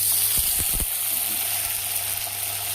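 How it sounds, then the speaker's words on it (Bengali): Chili, ginger and garlic hitting hot oil in a pan, a loud close sizzle that flares with a few sharp crackles at first and then settles into a steady hiss. "তেল গরম হয়ে গেছে, এর মধ্যে আছে লঙ্কা, আদা আর রসুন দিয়ে দেবো।"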